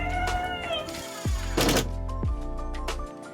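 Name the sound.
cat meowing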